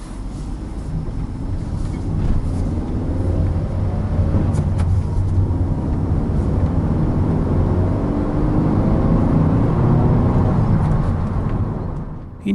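A Suzuki SX4 S-Cross with a 1.6 petrol engine revs steadily while driving, a loud continuous engine drone with road noise that builds and holds before easing off at the end.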